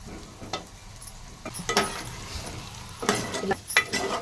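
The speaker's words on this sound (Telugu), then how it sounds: "వేసినాక ఇదే నూనెలో ఈ ముట్టీలు ఇట్లా వేయాలండి" Coconut dumplings fry in hot oil, giving a steady sizzle with occasional stirring and clinks of a utensil against the pan. No one speaks.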